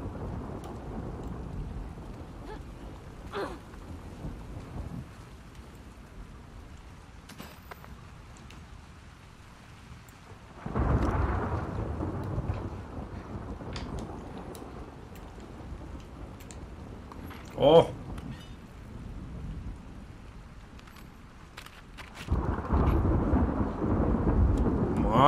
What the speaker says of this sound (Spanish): Pues vaya tormenta, chaval.